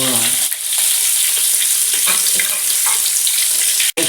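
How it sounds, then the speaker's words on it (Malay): Loud, steady sizzling and crackling of fermented ikan pekasam fish frying in hot oil in a wok, close up, with a brief scrape of stirring near the end. "Sekarang kita masukkan ikan pekasam kita gorengkan"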